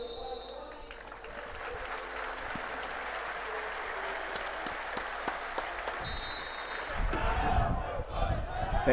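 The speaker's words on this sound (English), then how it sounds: "it's a round of applause for I think Jim Doherty and George Herd, who former players" Football crowd at a Clyde versus Stranraer match in 2024 applauding former players, a broad, distant stadium wash of clapping and crowd noise with commentators talking over it and a louder rumble toward the end.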